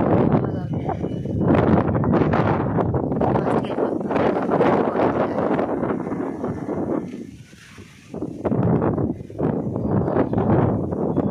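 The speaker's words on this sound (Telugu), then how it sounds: "గాలికి చెట్టు చూడండి ఎలా ఊగుతుంది." Strong, steady wind roars and gusts across the microphone as it blows through swaying trees under gathering rain clouds, with a rushing, rustling texture, easing briefly before picking up again.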